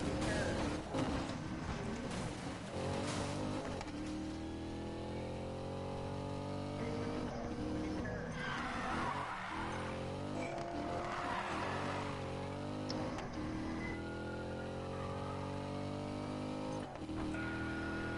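A new car drives with a continuous engine drone and changing revs, and its tyres squeal in rising and falling whines through the middle. The sound is close and steady, with no voices.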